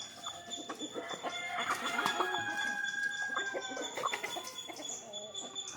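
Chickens cluck and call steadily from close by on a farm, with overlapping bird voices and a rooster-like cry or two standing out over a busy, continuous bed of poultry noise.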